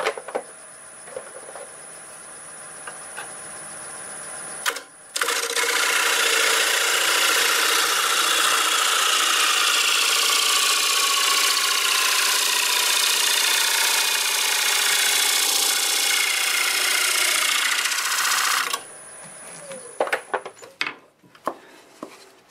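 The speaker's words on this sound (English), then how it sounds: "I will get my face shield and we'll cut a couple rings here." A wood lathe spinning at about 950 RPM cuts rings from a bowl blank turned from a board, making a loud, steady, continuous cutting roar for around thirteen seconds before it stops.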